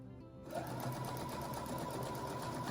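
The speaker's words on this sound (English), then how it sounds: "I'm just gonna go for a big old straight stitch to get over this." A sewing machine starts up and runs a long straight stitch, its motor whirring steadily with a fast, even mechanical rhythm, close and alone without speech.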